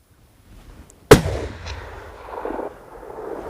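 A single loud rifle shot cracks out during a deer hunt in New Zealand, sharp and close, then rolls away as a fading echo across open country.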